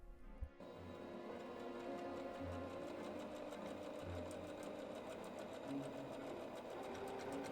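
A sewing machine stitches a buttonhole in drapes, with a steady, quiet, continuous mechanical hum and faint rhythmic ticking after a brief start.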